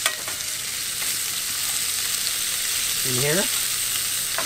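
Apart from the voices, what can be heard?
bacon and potatoes frying in a skillet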